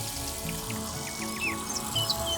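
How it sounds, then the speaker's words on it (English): Birds chirp in the trees along the autumn hiking trail to Minoh Falls near Osaka, with a run of short, quick calls over a steady wash of river and background noise. "birds somewhere up in the trees"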